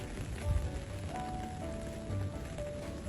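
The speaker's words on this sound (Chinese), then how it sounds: "今天又是下雨天啊" Heavy rain pouring down on a stormy night in a residential compound, a dense, steady close hiss of drops on surfaces with no voices.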